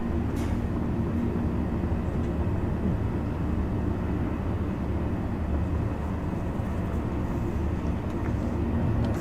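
A train in the Star Citizen video game gives off a continuous low, heavy rumble with a steady mechanical drone that holds evenly for several seconds, fairly loud and close, with no one speaking.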